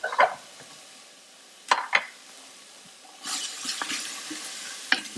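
Chopped onion sautéing in about three tablespoons of olive oil in a stainless steel pot over medium-high heat, soft sizzling with a few sharp scrapes and clinks of a utensil against the metal, no voices.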